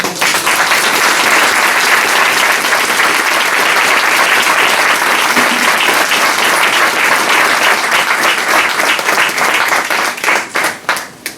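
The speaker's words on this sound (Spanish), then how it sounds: "Un aplauso a Manuel." A large crowd applauds loudly and steadily at a tribute talk, the clapping thinning out into a few scattered claps at the end.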